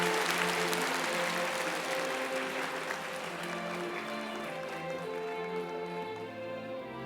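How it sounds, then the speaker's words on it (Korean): A church congregation, including people on an upper balcony floor, applauds in welcome with steady, dense clapping that gradually fades, heard from within a large sanctuary. "박수로 환영하겠습니다."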